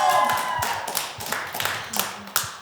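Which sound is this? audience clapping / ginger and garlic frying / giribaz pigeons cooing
audience clapping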